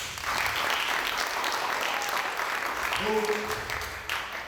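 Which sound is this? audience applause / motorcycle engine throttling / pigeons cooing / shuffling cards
audience applause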